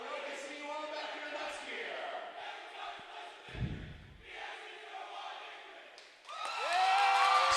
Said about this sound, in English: Sioux City doing the victory cheer